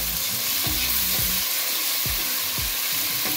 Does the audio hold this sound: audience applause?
no